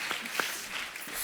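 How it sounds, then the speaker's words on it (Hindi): Studio audience applause on a television comedy show, a short, soft wash of clapping from a crowd, fairly even and somewhat distant. "जूनियर NTR सर के लिए एक बार जोरदार ताली हो जाए।"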